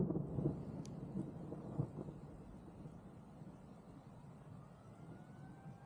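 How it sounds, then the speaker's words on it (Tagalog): Low rumbling thunder rolls in from afar, strongest at the start and fading into a quiet background hum. "naririnig niyo ba ang mga kulog?"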